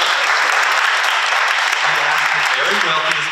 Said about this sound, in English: Little cheer, thank you.